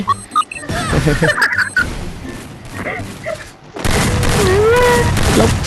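Two heavy grenade explosion booms go off in the video game Garena Free Fire, mixed with shuffling and clatter, followed by a sustained loud rumbling roar.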